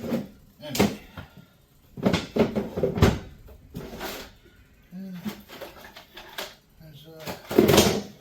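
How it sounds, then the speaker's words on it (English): Drawers are opened and shut while someone searches a room, making several hollow wooden knocks and slides between bursts of nearby talking. "Check the drawers."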